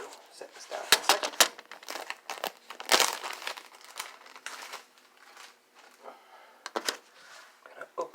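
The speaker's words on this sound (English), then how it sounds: "I'm going to open the Ziploc bag and the sugar goes straight into the pot." Someone opens a plastic Ziploc bag of sugar close by, making bursts of crinkling and rustling plastic with brief pauses between handlings.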